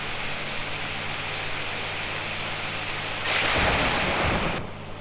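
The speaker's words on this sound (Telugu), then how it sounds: "వర్షం పడుతుంది" Video game rain makes a steady, broad hiss that swells into a louder rush for a moment near the end, then drops back, with no voices.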